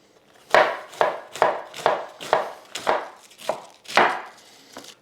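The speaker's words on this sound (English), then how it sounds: "And then I'm going to slice this as finely as possible" A knife slices through half a head of cabbage on a board in about ten steady, crisp chops, each a sharp crunchy thud, close and clear with no talking.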